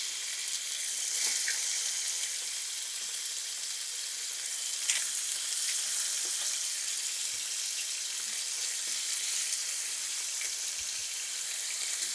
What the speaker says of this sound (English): That's the noise you want to hear, nice loud sizzle.